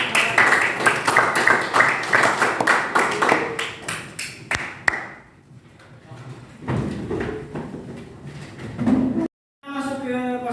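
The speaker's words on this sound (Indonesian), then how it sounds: "Tepuk tangan dulu untuk" Students in a classroom clap for a student group, a burst of rhythmic, fairly close hand claps that fades out after a few seconds, followed by room noise and voices.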